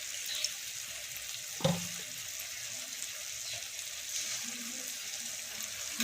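A splash of water goes into the pan for a chili chicken sauce, a faint, steady trickle with one soft thud partway through, heard alone.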